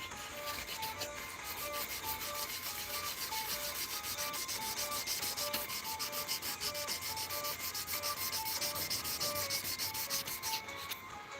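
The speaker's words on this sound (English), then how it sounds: "now we're just kind of sanding, trying to get these scratches out of here." A wooden trunk is sanded by hand to work out surface scratches, producing a steady, continuous abrasive rubbing with a fast rhythmic scrape, close and fairly loud, with no voices throughout.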